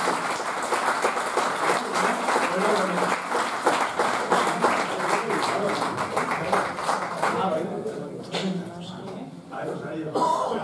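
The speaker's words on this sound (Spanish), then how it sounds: "le vamos a dar un aplauso" A room full of people claps steadily and enthusiastically for several seconds, the applause thinning out toward the end.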